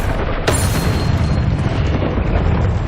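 A Confringo spell explosion in the wizarding game Hogwarts Legacy, a single sharp blast followed by a sustained rumbling boom that stays loud and dense throughout.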